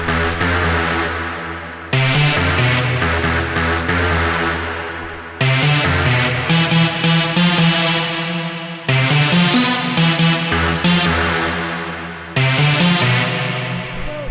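Hard mainroom techno synth chord stabs, layered with a rave chord, hit loud and aggressive in a driving repeated pattern with short gaps between phrases.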